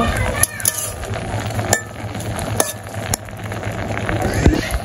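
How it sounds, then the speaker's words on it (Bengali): Potatoes and bitter gourd simmer in a village kitchen pan with a little water, giving a low, steady sizzle and bubbling. Sharp clinks and utensil knocks come through now and then. "তো যে পাশে হচ্ছে আলু আর করলা আছে, একটু সিদ্ধ করে নিতেছি"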